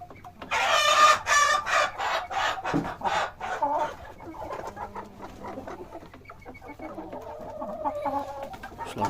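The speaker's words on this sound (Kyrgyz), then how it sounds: "Тоок." Farmyard chickens and a rooster for sale, close loud clucking and squawking bursts early, then softer clucks and low murmurs tapering off.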